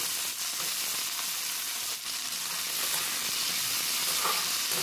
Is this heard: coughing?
no